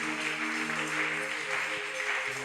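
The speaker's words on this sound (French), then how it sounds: "Acclamons très fort le Seigneur Jésus." A church congregation claps together during a worship service, a steady, dense applause sustained throughout with a faint tonal hum of instruments or voices underneath.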